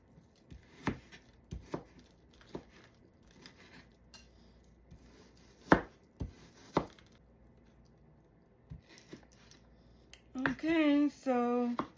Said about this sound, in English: steak is always easier to cut when it's a little bit frozen because it doesn't slide all over the place